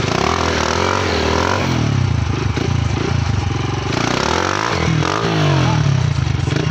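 A motorcycle revs hard while popping a wheelie, its loud, close engine note climbing and dipping in pitch over a continuous mechanical clatter.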